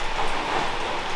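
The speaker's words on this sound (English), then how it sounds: "as you can see, bit of rain" Steady rain pours down on a construction site, a dense, even hiss with no breaks, close and fairly loud.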